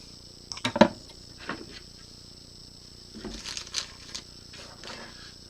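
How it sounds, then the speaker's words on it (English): Small metal fasteners such as T-nuts fall and patter down inside a solder stencil printer during assembly: a quick cluster of light clicks, then a scattered second run of faint taps a few seconds later, with no talking. "It's raining random fasteners."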